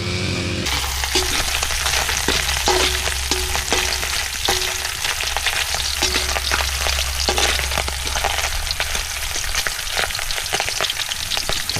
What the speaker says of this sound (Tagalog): Luto tayo ng chop suey.